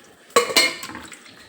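Ceramic and steel dishes clatter as a rice plate is lifted from among other dishes, two sharp clinks close together followed by lighter rattling, close and fairly loud with no talking.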